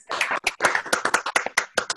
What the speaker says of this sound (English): I'd like to have a big round of applause.